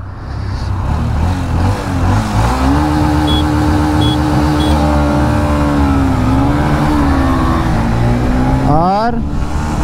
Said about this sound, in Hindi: हम चला रहे हैं पहले अब 125 SP, और अंकित भाई चला रहे हैं अपने रेडर